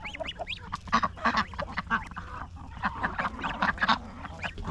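Three-week-old goslings and ducks honk and quack in a busy, overlapping flock chorus, close and steady throughout with no talking.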